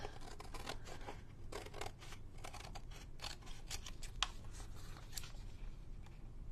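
Scissors trim paper for a junk journal in a quick series of quiet, close snips, with no talking.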